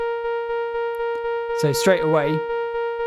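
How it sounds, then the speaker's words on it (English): Step sequencer in a modular synth rack playing a steady pulsing rhythm of short ticks under a sustained droning tone, while a person talks briefly over it. "you can hear it sort of sending a rhythm going across the sequencer"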